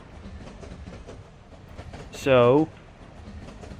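Union Pacific Challenger steam locomotive running in the RO-Scale Rails video game, with a short loud whistle-like tonal blast rising over a steady rumble and soft rail noise while a voice talks.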